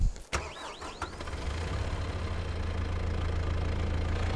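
A tractor engine cranks and catches in Farming Simulator 22, settling into a steady low idle that rumbles on loudly after a brief burst of sharp start-up sounds.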